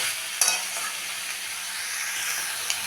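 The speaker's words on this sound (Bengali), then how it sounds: "এখন দিয়ে দেব সমস্ত সবজিগুলো সবজিগুলো একটু এরমভাবেই একটু মাংসের সাথে একটু ভেজে নেব" Vegetables fry alongside chicken pieces and spices in a pan, giving a steady close sizzling hiss with a couple of sharp utensil clinks near the start and end, no talking.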